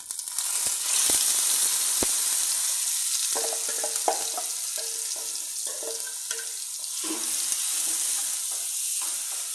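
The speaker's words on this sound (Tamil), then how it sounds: "சிம்மில் வச்சுட்டு இதுலேயே நம்ம இப்போ பூசணிக்காய் ஆட் பண்ணிடலாம்" Chopped white pumpkin goes into a pan of hot ghee where cashews have just been fried for halwa, setting off a steady close sizzle with a few light clinks and stirring scrapes.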